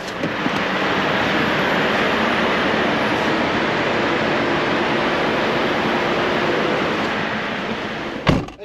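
A ferry under way, its engine giving a loud, steady broadband roar that holds nearly unchanged for the whole stretch, with no talk over it.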